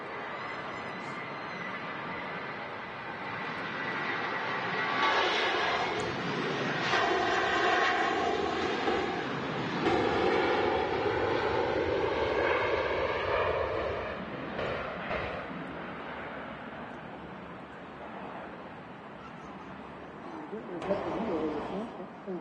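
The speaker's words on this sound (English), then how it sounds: "There is a KLM lined up at the start of the runway." KLM airliner lined up at the start of the runway at Manchester Airport, its engines building to a broad, loud roar that swells and holds then slowly fades, heard from a distance with voices talking over it.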